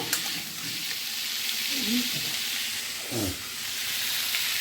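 Prawns fry in hot oil with potatoes for a Bengali prawn and pumpkin fritter curry, a steady loud sizzle broken by a couple of stirring scrapes, with brief voices in the background.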